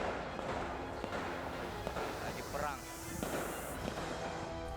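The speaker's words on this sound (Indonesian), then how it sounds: "berulang kali melepaskan tembakan gas air mata untuk membubarkan 2 kelompok mahasiswa" Tear gas launchers fired by police during a clash between two student groups in Makassar, heard as sharp pops amid a dense, constant crowd roar and shouting.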